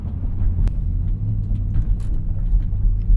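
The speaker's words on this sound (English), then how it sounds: "Will hear a little bit of noise on the inside. I think it's due to the low profile tires." A low, steady road rumble fills the cabin of a BMW X5 M running on low-profile tires, with a few faint clicks over the drone and no voices.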